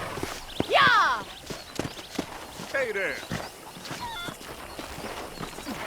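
Horse hooves clip-clopping on the ground in the video game Red Dead Redemption, an uneven walking rhythm of soft thuds mixed with a brief whinny-like cry, under people talking.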